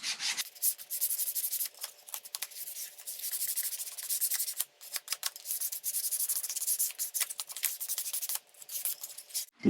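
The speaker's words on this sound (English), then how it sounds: "Now, when you do the red, you're going to want to get another piece of sandpaper. So we're going to sand the red." Red paint on wood is sanded by hand with sandpaper, a close, raspy scratching that repeats in quick back-and-forth strokes with brief pauses and no talking.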